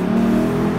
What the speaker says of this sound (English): And what about that V8 sound?